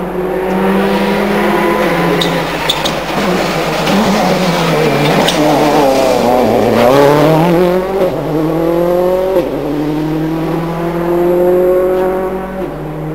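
A Tour de Corse rally car, from the 2007 event, passes with rising and falling engine tones and audible turbo whooshes, loud and close, with the note sweeping up and down as it accelerates and brakes.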